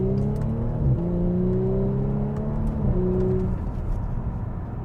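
An Audi S5 with an 8-speed automatic in dynamic mode accelerating, the engine climbing in pitch through a couple of quick upshifts, loud and close, with no talking.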